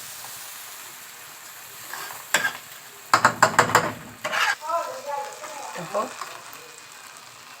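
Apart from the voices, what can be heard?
stirring and frying rice with vermicelli in a pot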